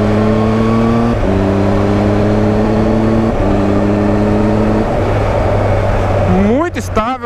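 A Triumph Tiger 1200 XCA motorcycle engine drones steadily while riding, pitch stepping down between gears, then rising sharply as it revs near the end; loud and close.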